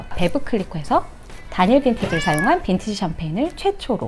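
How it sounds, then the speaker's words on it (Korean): A house cat meows repeatedly and fairly loud, several drawn-out rising and falling calls close by, overlapping with someone talking. "고양이가 지금 출연을 하고 싶으신가 봐요"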